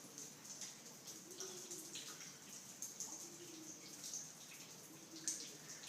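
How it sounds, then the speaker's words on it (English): Faint water drips and trickles echo in a hollow, quiet cave at Roaring River State Park, Missouri, with soft irregular plinks over a low watery hush. "there's the dripping water noise"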